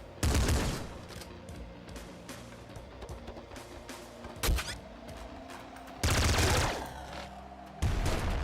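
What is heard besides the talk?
Gatling weapons firing in the video game Nuclear Throne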